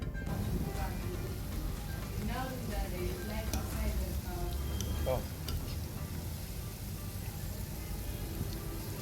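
Mandazi, East African half cakes, sizzling and crackling steadily in hot frying oil, a continuous fizzy bubbling with a person talking over it throughout.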